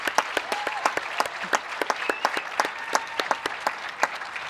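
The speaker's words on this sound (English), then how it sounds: "I want a round of applause" Clapping from a commencement ceremony audience, with sharp individual claps standing out over a softer, steady bed of applause, continuing evenly throughout.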